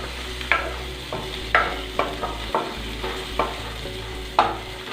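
A couple of coconut pieces lightly sautéed in a pan for fish curry, with a low steady sizzle and about eight sharp spatula scrapes and taps at an uneven rhythm, close by, with no voices.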